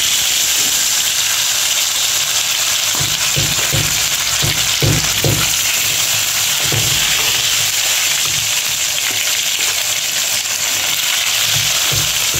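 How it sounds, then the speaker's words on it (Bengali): Rui fish pieces frying in hot oil give a loud, continuous hissing sizzle, broken by a few soft low thumps as the fish shifts in the pan. "মাছ আমি ভাজতে দিয়ে দিচ্ছি।"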